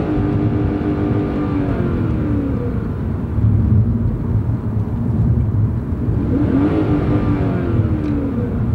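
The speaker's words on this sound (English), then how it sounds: "it's revving, but it's not taking off" An old V8 car engine revs steadily and loudly with rising and falling pitch sweeps, the older automatic transmission shifting down as the gas is pressed, with no one talking.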